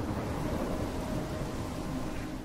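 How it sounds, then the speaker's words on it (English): A low, sustained rumble of thunder rolls through a stormy night scene in the game Life is Strange, steady and heavy with a windy, rain-like wash over it and no speech. "When that thunder hit, that scared the shit out of me."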